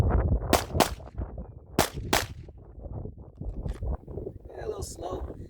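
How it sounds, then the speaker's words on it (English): Sharp gunshots crack from a Glock pistol fitted with a Taran Tactical trigger, fired in quick pairs during left-to-right drills, with a few quieter shots after and someone talking between them. "Let's just shoot a couple of drills left to right, just messing around."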